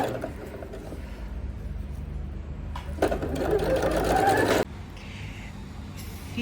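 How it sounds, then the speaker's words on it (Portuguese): Sewing machine stitching bias binding onto a fabric bread basket, a steady close mechanical whir that runs throughout and grows briefly louder and faster in the middle before easing back. "Finalizando a costura do viés"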